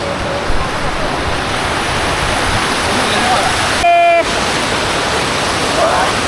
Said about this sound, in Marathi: धबधबा बघा किती क्रेझी आहे